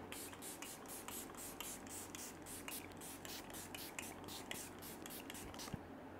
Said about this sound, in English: Now I'm using this Ruby Light setting spray.